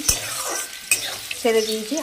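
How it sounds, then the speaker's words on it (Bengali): Potatoes fry in hot oil with panch phoron spices, a close sizzling hiss broken by quick stirring scrapes in the pan. "আলুগুলো সব ছেড়ে দিয়েছি।"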